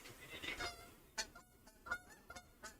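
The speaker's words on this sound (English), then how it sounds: "There's the geese again. Every day they fly." Geese honk as they fly over a college baseball park, a series of faint, scattered calls spaced irregularly against quiet ambient background.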